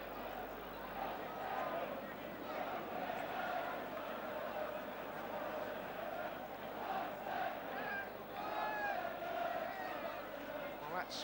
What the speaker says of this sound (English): That's brought the crowd to life.